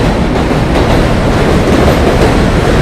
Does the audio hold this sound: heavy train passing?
yes